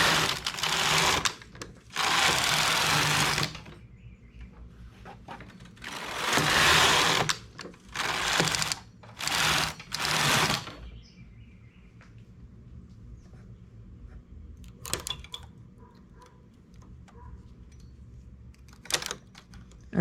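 A knitting machine weaving a wide edge finish, with its carriage sweeping across the needle bed in several loud, harsh mechanical runs, each lasting a second or two, followed by quieter clicks and gaps.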